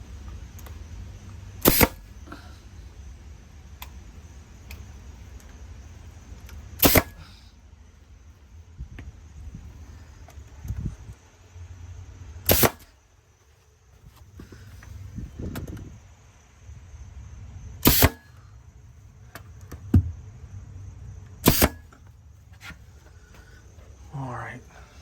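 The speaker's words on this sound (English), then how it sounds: "These brads I'm shooting, they're just to hold it for now." A brad nailer fires brads into exterior trim, five or six sharp loud snaps spaced several seconds apart over a low background rumble and faint handling noise.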